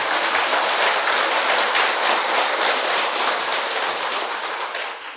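Students at a meditation class clap loudly and continuously, a dense, hissing roar of many hands that sustains evenly for several seconds before beginning to fade at the end, with no talk over it.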